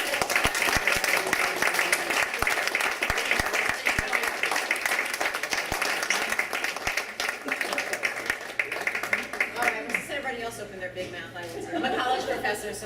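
Sustained applause fills the room at a handball hall of fame awards ceremony after an inductee is announced: dense, loud clapping from a large audience that continues throughout and tapers slightly near the end.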